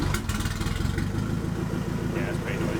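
A loud, raw Ford Escort Mk2 engine, a turbocharged K20, rumbles and pulses close by, harsh and unmuffled, as though running without an exhaust.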